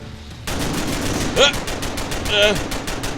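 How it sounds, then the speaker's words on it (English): Rapid bursts from a heavy gun in the video game Under Occupation: Revenge, a fast, steady string of loud close shots, with a couple of short vocal sounds rising over the firing. "That's a heavy gun."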